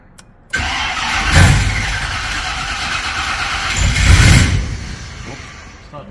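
A car on a dyno running an E85 tune revs hard twice, its engine note swelling to loud peaks and falling back between, with a steady mechanical roar throughout.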